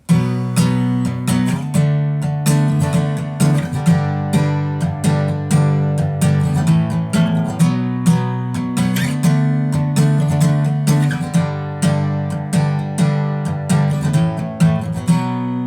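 Steady guitar strumming in the pattern of a song, full chords struck in a brisk, even rhythm for the whole stretch, close and loud with no voice over it.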